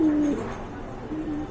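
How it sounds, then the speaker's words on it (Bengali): Pigeons in a breeding cage give a soft, low cooing call near the start, followed by fainter coos later, against steady background noise with no talking. "এই যে দেখেন পুরো ব্রিডিং মোডেই রয়েছে কবুতরগুলো"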